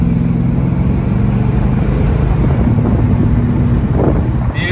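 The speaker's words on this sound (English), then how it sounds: "Beautiful smooth acceleration, nice shifting of the gears, the transmission." A 1969 Pontiac GTO convertible cruising along a beach road, a loud steady engine drone buried under heavy wind buffeting on the microphone, with no clear gear shift standing out.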